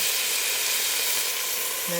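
Paneer fries with salt for a village-style chicken biryani, giving a dense, even sizzle that holds steady and close throughout, with a faint tonal clink at the very end and no voices.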